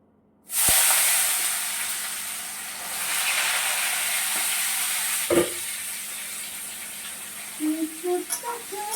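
Potatoes frying in a pan, a sudden loud sizzling hiss that bursts in and carries on steadily, with a sharp clatter midway and a few short voice-like sounds near the end.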